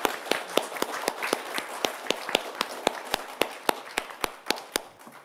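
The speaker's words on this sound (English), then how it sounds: "give a great round of applause to our four" Rhythmic, evenly spaced claps ring out for about five seconds after an academic panel session, sharp and fairly near, sounding more like a few hands or a single steady clapper than a full crowd.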